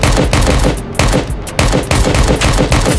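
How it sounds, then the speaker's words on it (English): Loud, close automatic gunfire in the shooter Project Delta during a player-versus-player fight, a series of rapid bursts separated by short pauses, with no voices. "He's getting shot at."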